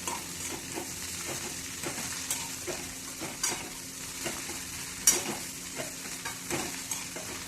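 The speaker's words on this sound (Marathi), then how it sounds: "आता चमच्याने टाकलेले सर्व साहित्य चांगले एकत्र करून घ्यायचं" A spoon stirs chauli (amaranth) greens in a pan, giving soft irregular scraping strokes over a faint steady sizzle, close and fairly quiet with no talk.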